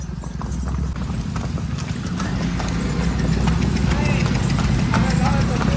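Steady hoof clip-clop of mares at a slow walk under riders at a horse farm in Surat, close by, with people talking over it throughout.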